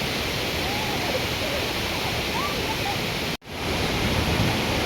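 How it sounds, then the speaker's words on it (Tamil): Lakkam waterfall near Munnar pours in a loud, steady roar of rushing water with no break, briefly cut by a sharp dropout before the roar resumes. "அருவி செம்மையாக கொட்டுது."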